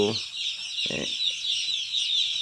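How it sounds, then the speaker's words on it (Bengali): Poultry chicks tipped out of a delivery box on a farm keep up a dense, continuous high peeping chorus, with a brief soft rustle partway through. "আমার চিক্স ঢালা হচ্ছে"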